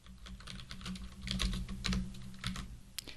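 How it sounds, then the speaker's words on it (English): Steady typing on a computer keyboard during a React forms coding tutorial, a run of quick, close, fairly soft key clicks with small pauses, alone with no talking. "I can type normally."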